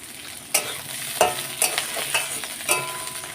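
Onions fry in hot oil with nigella seeds and dried chilli in a home kitchen, a soft background sizzle broken by several sharp scraping stirs of a spatula against the pan.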